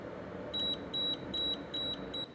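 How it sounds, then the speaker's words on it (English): Electronic alarm on a rum still running a molasses wash, sounding four evenly spaced high pitched beeps over a steady background hiss of running water and equipment, fairly close and clear. "That is my alarm telling me that the distill started"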